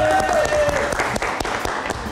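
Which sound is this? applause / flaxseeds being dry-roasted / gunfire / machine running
applause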